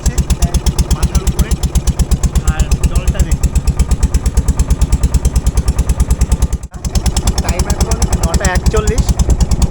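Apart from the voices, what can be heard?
boat engine running at sea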